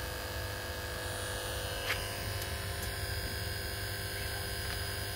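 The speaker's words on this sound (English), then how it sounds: "This is Harbor Freight 20 volt vacuum pump." Hercules Harbor Freight 20 volt vacuum pump running, a steady electric hum and buzz that holds constant throughout, with a small click near the start of the second half and no voices.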